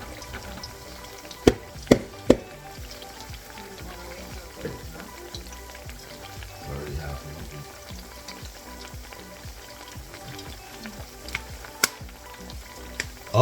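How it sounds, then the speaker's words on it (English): Chopped vegetables frying in butter in a pan, a steady soft sizzle running throughout with a few sharp clanks near the start and end, recorded up close. "I'm going to go ahead and just dump them in this pan"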